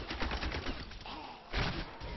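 Gunfire and blasts in Diablo 3 as a Demon Hunter fights, a rapid burst of crackling shots followed by a heavier thudding explosion, dense and close, with no talk.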